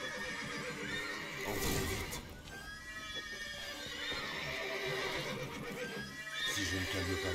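Horses neigh and whinny repeatedly in the video game The Witcher 3 over a busy background, with some hoof clatter and a voice speaking in places.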